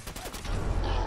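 Gunfire from a weapon in Fallout 4 rattles off in a quick burst of sharp shots, followed by a lower rumbling tail, moderately loud with game effects.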